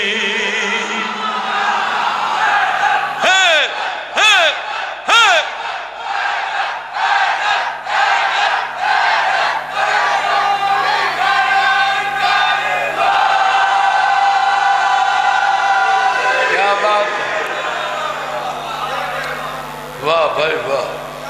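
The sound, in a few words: crowd chanting religious slogans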